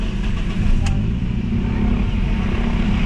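A 2016 Toyota Vios with a check engine light idles close by as a steady low mechanical rumble after starting, with a brief click partway through.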